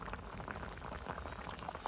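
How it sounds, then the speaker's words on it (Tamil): Liquid boiling in a cooking pot, a continuous soft bubbling and gurgling, close and quiet, with no talk over it. "நான் இது கொதிக்கிறதே காட்டுறேன் வடிவா"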